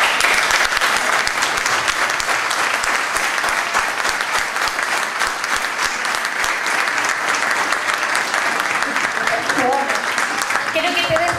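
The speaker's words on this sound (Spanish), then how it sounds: "Quiero que te des vuelta para que puedas ver este aplauso de todo el mundo por todo lo que haces." Sustained audience applause at a San Nicolás leaders' day celebration in 2019, dense and loud clapping that continues evenly throughout, with faint voices emerging near the end.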